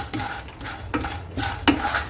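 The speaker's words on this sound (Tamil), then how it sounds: "1 டீஸ்பூன் சீரகம், 4 கிராம்பு, 4 காஞ்ச வரமிளகாய், இதெல்லாம் போட்டு கருகாம 2 மினிட்ஸ் நல்லா வறுத்துக்கலாங்க." Whole spices (cumin seeds, cloves and dried red chillies) being stirred and dry-roasted in a kadai, with irregular scraping and rattling strokes of a spoon against the metal pan over a faint sizzle, close and alone.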